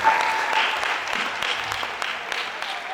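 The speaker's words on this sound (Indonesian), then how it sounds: "kita berikan tepuk tangan buat Audrey." Audience clapping for a participant at an entrepreneurship talk show, a dense burst of applause from a small crowd that starts strong and eases slightly over three seconds, close and steady.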